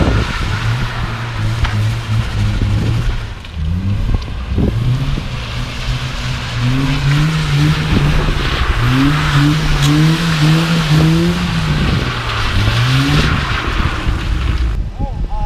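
A BMW E36 with a newly fitted differential drifts at night at a London drift spot, its engine loud and close, revving up and down in repeated surges with tyre noise beneath.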